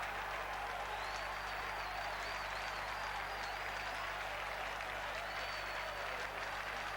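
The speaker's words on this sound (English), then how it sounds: "They applaud the cross in from Heggs, and they applaud the finish from Seal" A football crowd applauds a goal with steady, dense clapping throughout, with a faint whistle-like tone rising above it and no clear talk.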